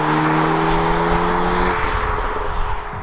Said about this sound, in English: The car changes direction instantly, it's nimble, and it feels like it's dancing on the road all the time.